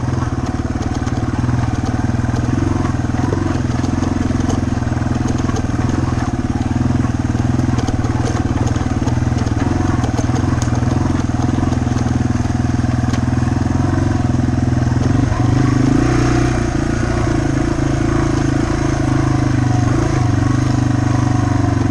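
Yamaha TW200 motorcycle engine running steadily while riding over rocks, a loud, close, continuous mid-pitched drone with faint crackle, no voices.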